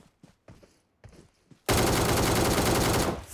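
Sustained loud automatic gunfire in PUBG Mobile during a solo-versus-squad match, a dense roaring burst that erupts after a few quieter scattered sounds and runs on for over a second before cutting off.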